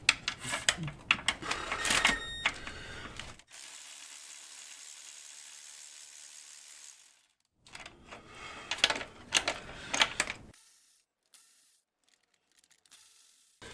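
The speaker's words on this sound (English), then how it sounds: "I'm going to use the actual wobble sockets in this particular event, and we'll see how it goes." Wobble sockets on a ratchet loosening lower intake manifold bolts on a 1990–94 Lexus LS400, heard as bursts of clicking ratchet strokes, a steady hiss in between, then another run of ratcheting clicks, close and moderately loud.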